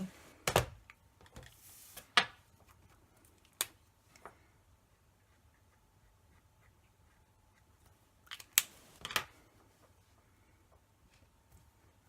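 Scissors fussy cutting paper around a stamped image for a handmade card, giving sparse, crisp snips and clicks at irregular intervals, close and quiet, bunched at the start and again near the end with near-silence between.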